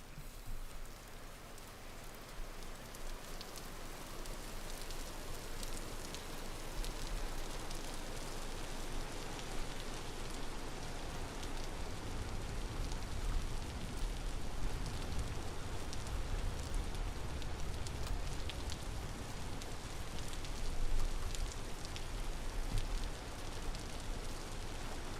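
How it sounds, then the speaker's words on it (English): Rain falls steadily in the video game Vintage Story, a constant soft hiss of drops with no pauses, heard alone and fairly faint throughout. "It's raining."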